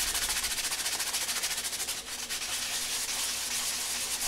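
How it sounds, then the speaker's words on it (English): Small wooden bracket pieces for a dance pad replica are sanded in a continuous, rapid back-and-forth rasping scrub, loud and close with a steady rhythmic pulse and no talking. "Sand it again, as always."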